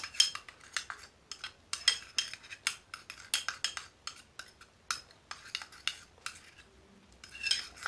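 A cream mixed with ginger and cinnamon, stirred by hand in a bowl with a utensil, giving a run of uneven clinks and scrapes at close range, no talking.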